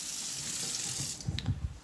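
Tap water runs steadily into a container of ground dog kibble, a close, continuous splashing stream that ends in a few louder gurgling bursts as the water fills the bowl.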